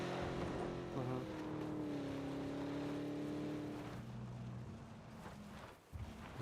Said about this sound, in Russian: Тачка пиздец громкая